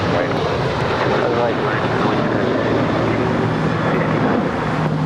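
A JetBlue airliner taking off from runway 25 right at LAX, heard as a loud, steady, unbroken engine roar that fills the whole stretch, with voices faintly beneath.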